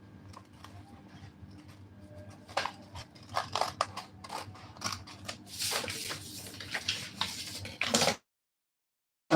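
Scissors snip through fabric while cutting the armhole of a simple strapless dress pattern, a run of close, crisp irregular cuts growing denser and louder before stopping abruptly.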